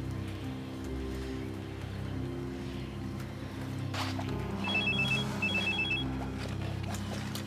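A telephone rings after a friend's number is dialed, giving two short electronic ring bursts in the latter half over a low, steady background hum.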